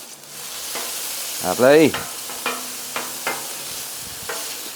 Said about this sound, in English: Let's give that a bit of a stir around in here.